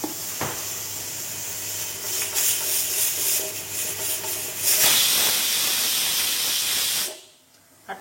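A pressure cooker on a gas stove boiling pork lets out a loud, continuous steady hiss of escaping steam lasting several seconds, swelling midway, then cutting off abruptly into quiet.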